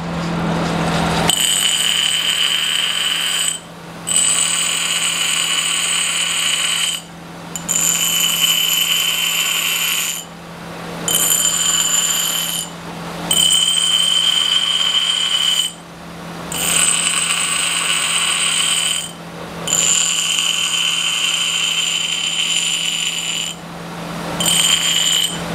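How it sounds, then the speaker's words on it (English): A grinding wheel takes the mushrooming off the head of a blacksmith's cold chisel. Loud bursts of high grinding recur about every three to four seconds, with short gaps between them and a low motor hum underneath. "I'm going to start with removing the little bit of mushrooming on this cold chisel. Just going to do it on the grinding wheel."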